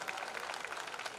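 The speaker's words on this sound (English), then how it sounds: "So give a big round of applause." Audience applause at a Kendriya Vidyalaya school annual function, a dense steady wash of clapping filling the short moment without any speech over it.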